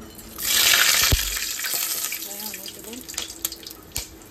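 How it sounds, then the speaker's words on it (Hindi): Water gushes from a tap into a pot for rice being made for a dum biryani, a loud rushing pour that fades into a softer trickle, with someone speaking briefly over it and some clatter. "पानी डाल देती हूँ"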